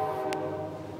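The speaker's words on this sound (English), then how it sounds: "here comes the train" A train passes and sounds its horn: loud, sustained tones ring over the rumble of the rail cars for about a second.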